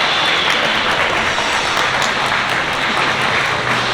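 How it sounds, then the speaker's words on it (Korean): Wedding guests applauding the bride and groom at a ceremony, a dense, continuous clapping from a crowd that stays level throughout with no voices over it. "더 큰 박수 부탁드리겠습니다"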